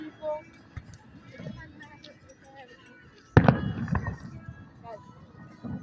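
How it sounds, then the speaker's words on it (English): Fourth of July fireworks at night: one sharp, fairly close bang with crackling afterward stands out over faint earlier pops and distant rumbles, with people talking quietly through it. "FIREWORKS"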